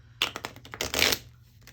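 Tarot cards are shuffled by hand close up: a quick run of short riffling bursts followed by one longer, denser shuffle, then quiet.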